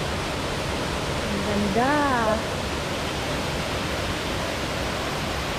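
Pahangog Twin Falls in Bohol roars as a steady, loud, broadband rush of falling water throughout. A short spoken remark briefly rises over it.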